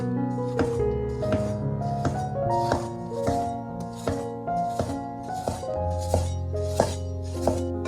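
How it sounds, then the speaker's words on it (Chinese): A knife cuts a peeled potato into thin slices on a board, making crisp, evenly spaced chops about twice a second, close up, over steady background music. "再切成薄片。"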